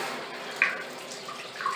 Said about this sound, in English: if you're going to actually open the water now, you can see the water coming from here.